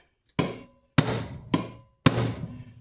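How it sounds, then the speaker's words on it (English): A hammer whacks a brake part on a Minneapolis Moline 445 tractor: four loud, sharp metallic strikes at uneven intervals, each ringing out briefly before the next, with no talking. "Maybe even just give it a whack"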